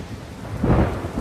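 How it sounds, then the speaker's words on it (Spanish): Heavy rain and thunder over the Terra Alta front during the Battle of the Ebro: a dense wash of rain under a deep rolling rumble that swells midway through a brief burst. "La lluvia se adueña de la Terra Alta"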